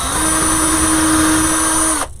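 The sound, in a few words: power drill drilling into bicycle wheel wreath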